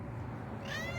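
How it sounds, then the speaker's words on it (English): A house cat gives one short, close meow, alone and quiet. "Don't you purr at me."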